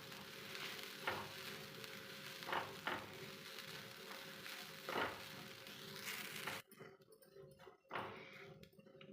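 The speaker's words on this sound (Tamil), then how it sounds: "தேங்காய் அந்த மாதிரி பார்த்து வறுத்துக்கோங்க" Grated coconut dry-roasting in a pan gives a steady close sizzle with a few louder stirring scrapes, then stops abruptly near the end leaving brief quiet clatter.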